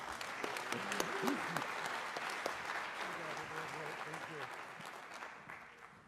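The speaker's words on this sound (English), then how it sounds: "Give him a big round of applause." Steady applause from a crowd at a college 150th anniversary celebration fills the room, clapping continuously at moderate volume with some voices mixed underneath.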